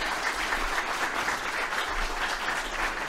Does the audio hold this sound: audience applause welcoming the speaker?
yes